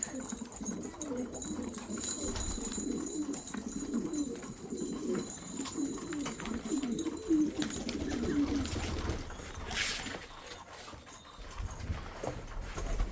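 Low, rolling coos from pigeons, repeated throughout at close range, with occasional rustling and a faint voice in the background.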